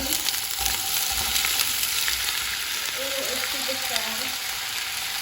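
Potatoes and onions sizzle loudly in hot oil in a pan for a Spanish tortilla, a dense steady crackle throughout with brief muffled clatter of the pan midway.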